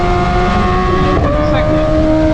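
A BMW S1000RR sport bike engine revving hard during a power wheelie, a loud, close, sustained high-pitched howl that holds steady then dips briefly as it shifts, with a voice talking over it.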